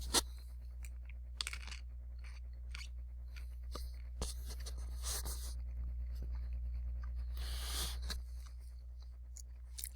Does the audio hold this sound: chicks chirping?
no